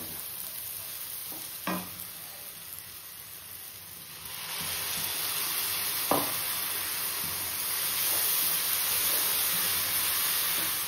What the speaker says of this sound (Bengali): এবার মশলাটা দিয়ে দেবো, হয়ে গেছে পেঁয়াজটা ভাজা।